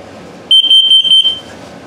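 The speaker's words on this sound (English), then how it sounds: "device here is your carbon monoxide LP gas detector" A carbon monoxide and LP gas detector in a 2022 Mesa Ridge 330BHS RV during an alarm test gives four rapid, loud, piercing beeps close by, with no talking.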